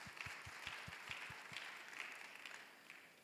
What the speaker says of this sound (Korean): 환영과 기쁨의 박수 한번 보내드릴게요.